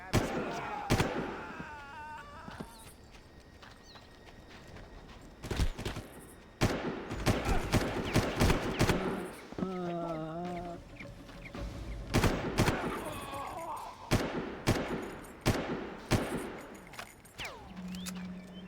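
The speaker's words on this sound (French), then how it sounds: "Moi, je te snipe avec une M16." M16 gunfire in the first Far Cry game cracks out in sharp, loud single shots and short bursts spread through the stretch. Game sounds fill the gaps, and someone talks at times between the shots.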